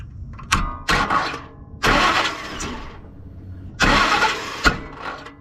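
A 2004 Ford Expedition with a faulty starter cranks in several separate bursts, each a loud, close grinding churn that cuts off abruptly, with short pauses between attempts.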